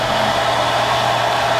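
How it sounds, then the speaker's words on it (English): A hairdryer running on low warm heat to dry wet paint on a model car body, a loud, close, steady whooshing blower with a constant motor hum. "See this hairdryer sitting here? Put this on a low warm heat, and you can take and dry that."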